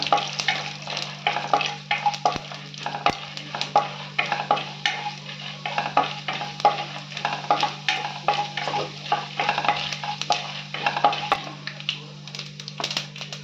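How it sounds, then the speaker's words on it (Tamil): Mustard seeds and chana dal fry in hot oil, a steady close sizzle with quick crackling pops and the scrape of stirring throughout, with no one speaking. "இப்போ கடுகு, கடலைப்பருப்பு போட்டிருக்கேன். இது கொஞ்சம் கலர் மாறட்டும்."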